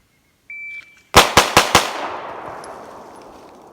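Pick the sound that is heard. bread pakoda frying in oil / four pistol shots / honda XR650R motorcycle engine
four pistol shots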